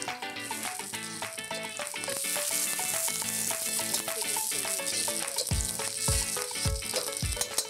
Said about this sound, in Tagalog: Gisa natin yung ating sibuyas